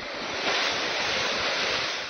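Lake ice pushing onto the shore of Lake Mille Lacs, a steady broad hiss and rustle of shifting, grinding ice chunks, faint and continuous without voices.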